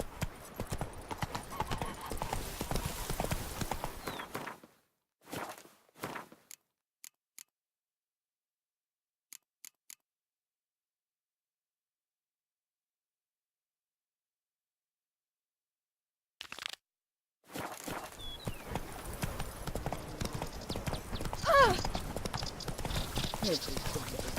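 A horse's hooves clip-clop in The Witcher 3, with voices talking over them, then a long stretch of near silence before the hoofbeats and talk pick up again.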